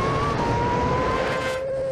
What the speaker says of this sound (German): Formel 1 Auto.